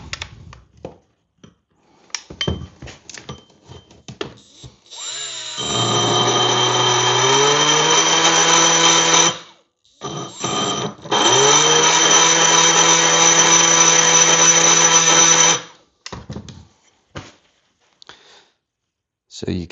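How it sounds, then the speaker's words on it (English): Angle grinder enlarging a small witness mark on a steering part, two long loud whining runs as the disc spins up and bites into metal, with a brief pause between and talk before and after. "I'm gonna take the grinder, make that a bit bigger so that we can get a bolt through it."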